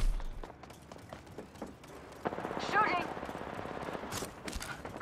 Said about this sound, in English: The enemies are shooting.